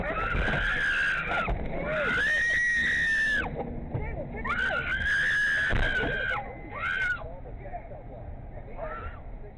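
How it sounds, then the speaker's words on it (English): Loud, sustained high-pitched screams of horror from people during a robbery, coming in several long drawn-out wails with short breaks between them, close and harsh. "these laughs turned to screams of horror"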